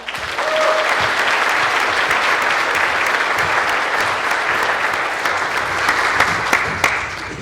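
Sustained applause from an audience at a school foundation community breakfast, honoring student performers; dense, steady clapping fills the whole stretch with a few sharper claps standing out near the end.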